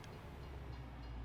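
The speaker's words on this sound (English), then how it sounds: "we got a train coming" Train in the video game Farming Simulator 22 rolling past a Missouri farm, a low steady rumble with faint rail clatter, quiet and continuous, with no talk over it.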